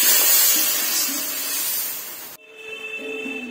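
Cold water is poured into a hot pan of fried onions in mustard oil. A loud, rushing hiss of steam bursts up and then cuts off suddenly, leaving a quieter bubbling simmer with faint tonal whines.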